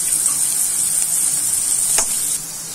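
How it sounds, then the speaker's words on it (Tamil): Dried red chilies and tamarind fry in hot oil with a steady hissing sizzle, then one brief scrape or stir of a spoon near the end before the hiss drops slightly. "எண்ணெய் காஞ்ச பிறகு நம்ம எடுத்து வச்ச பூண்டுக்கு அப்புறம் நம்ம வரமிளகாய் கொஞ்சம் போட்டுக்கலாம்"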